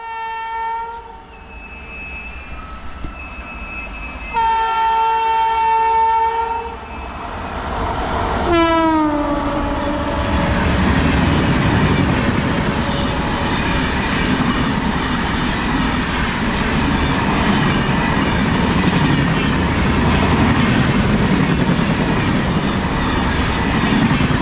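A Janmabhoomi Express hauled by a WAP 7 electric locomotive races past at speed near Ghatkesar, opening with loud, sustained horn blasts that drop in pitch as it passes, followed by a heavy, continuous roar and rattle of coaches close by.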